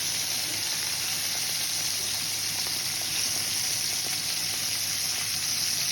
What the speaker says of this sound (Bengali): হালকা একটু ভাজা করে নেব